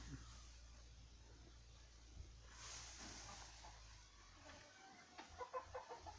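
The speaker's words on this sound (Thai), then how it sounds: "เสียงไก่กับใบกินน้ำนะครับ" Chickens cluck faintly in a rural yard over steady low background hum, with a burst of sharper clucks and calls near the end.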